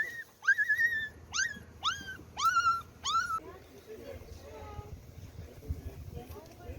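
Abandoned puppies whimper and yelp in a quick series of high, rising cries after being rescued by firefighters, followed by softer scattered whines over background murmur.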